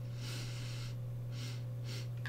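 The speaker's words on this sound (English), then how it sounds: "Let's have a sniff." Three short, close sniffs at an aged brown AXIA GT-1X cassette tape, evenly spaced breaths drawn in over a quiet room hum.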